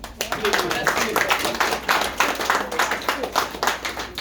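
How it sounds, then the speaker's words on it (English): A church congregation claps for the ministers at the close of a five-day prayer and fast, a steady crowd of many hands ringing out close and loud, with voices mixed in beneath it. "The ministers, clap for them."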